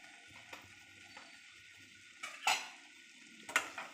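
A spice masala mixture of red chilli powder, coriander-cumin powder, mango powder, chaat masala and salt is stirred in a cooking pan, with soft scraping throughout and a few louder clinks of the spoon against the pan near the end.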